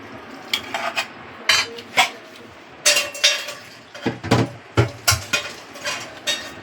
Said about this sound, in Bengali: কড়াইতে লোটে মাছটা দিয়ে দিলাম